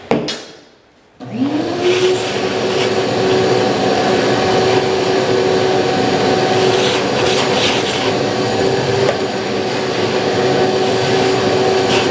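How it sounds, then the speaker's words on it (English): A vacuum cleaner starts up after a short pause and then runs with a loud, steady whine that holds for several seconds. "We vacuum up the crumbs."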